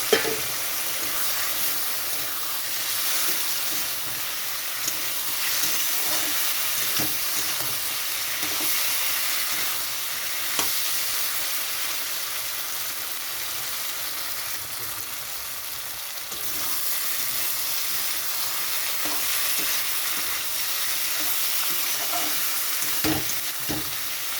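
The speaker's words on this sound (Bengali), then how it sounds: "এখানে একটু জল দিয়ে দিচ্ছি মশলাটা আরও ভালোভাবে কষানোর জন্য।" Spice masala for chicken ghugni frying in a pan after a splash of water, a continuous loud sizzle with occasional stirring scrapes and clicks over nearly half a minute, close and without talk.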